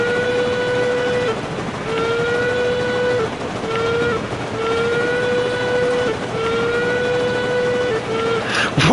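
A train runs steadily in the video game Railroads Online under a constant rumble, repeatedly sounding a whistle in several sustained blasts with short pauses between them, loud and close.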